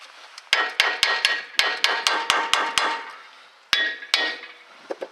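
Hammer striking the side of a front lower ball joint knuckle on a Ford Expedition, Mountaineer or Explorer, a quick series of about ten sharp metallic blows, then two more after a short pause, loud and close.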